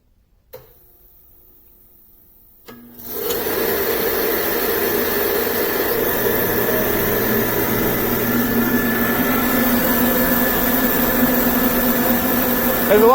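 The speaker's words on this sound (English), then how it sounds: "So what I usually do is turn the spark on first, and you can hear that, and then I'll turn the oil pump on" A home-built oil-burning furnace fires up: a faint ticking spark and a click come first, then a loud, steady roaring rush takes over once the oil pump starts, with a fluttering undertone.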